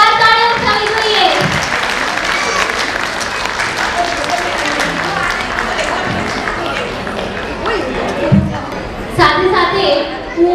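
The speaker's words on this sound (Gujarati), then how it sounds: "જોરદાર તાળીઓ થવી જોઈએ." Audience applause at a 50th anniversary function of a Jain women's association in Vadodara, India: dense, sustained clapping across the whole stretch, swelling slightly near the end, with crowd noise mixed in.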